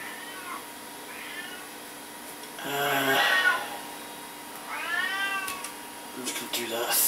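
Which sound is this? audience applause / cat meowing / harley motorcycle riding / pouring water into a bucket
cat meowing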